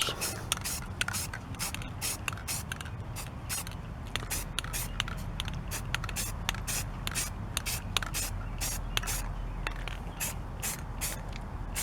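A rear wiper arm gets light coats of spray paint, with repeated short hissing bursts from the aerosol can and faint mechanical creaks between them, close by and fairly steady.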